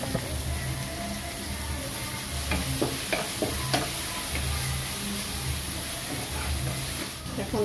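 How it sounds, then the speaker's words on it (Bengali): Potatoes frying on a home stove, a steady broad sizzle with intermittent stirring and scraping clicks, close and fairly loud, with low background hum and no voices. "এই চুলায় আলু ভাজতে দিছি"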